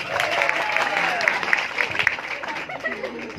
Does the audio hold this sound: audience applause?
yes